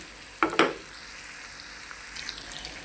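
Potatoes fry in oil with a low steady sizzle. Two sharp scrapes or knocks from stirring come early on, then a brief brighter spatter follows, heard up close with no talking.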